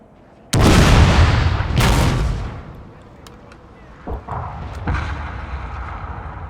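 Two loud, close cannon blasts from artillery during a siege of Osaka Castle in Total War: Fall of the Samurai, each with a long rumbling tail, followed by fainter distant shots.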